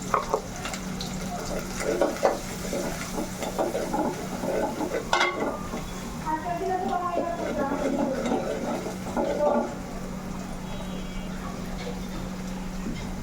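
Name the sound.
stir-frying spice masala in a pan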